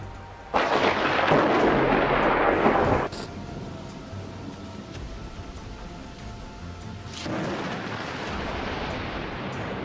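Loud thunder from a powerful lightning strike during a storm at sea near cruise ships, with a heavy rumbling burst lasting a few seconds, a quieter lull, then a second sustained roll of thunder.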